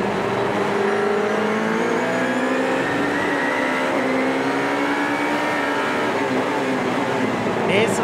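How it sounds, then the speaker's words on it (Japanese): Toyota GR Supra race cars in a 2021 Super GT race braking into a hairpin: a loud, continuous engine roar with shifting pitch as the cars slow and downshift, with a commentator talking over it throughout. "山下健太はちょっとここはパッシングをしながら今ヘアピンのブレーキングで入っていきますけれども"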